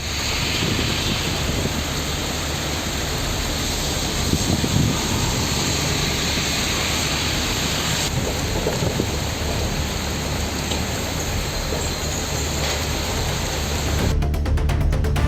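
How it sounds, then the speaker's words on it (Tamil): Heavy monsoon rain pours steadily in Gudalur in the Nilgiris, flooding the roads: a loud, continuous hiss of downpour with a faint low rumble that could be distant thunder. "கொட்டி தீர்த்த கனமழையால் சாலைகளில் மழைநீர் பெருக்கெடுத்து ஓடியது"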